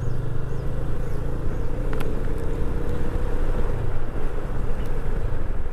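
A vehicle turns back on a rainy road between Bhayandar and Gorai village, heard as a steady, loud rumble of engine and road noise buffeted by wind, with a couple of faint clicks and no talking.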